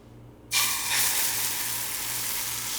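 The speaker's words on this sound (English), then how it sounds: "Drop it in there, let it sizzle." A sudden loud sizzle as an egg hits a hot frying pan, settling into a steady frying hiss that continues to the end.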